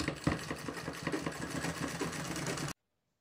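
A sewing machine stitches a fabric school stationery pouch with a fast, steady mechanical whirr and a rhythmic needle thump. The sound runs continuously and close by, then cuts off abruptly into silence.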